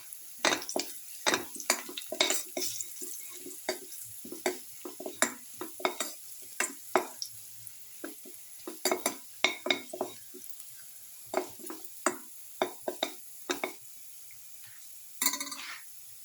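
Vegetables for a garlic, bottle gourd and tomato casserole are stirred in a pan with a utensil, giving repeated sharp scraping and clinking strokes in an uneven rhythm over a soft frying sizzle, close and without speech.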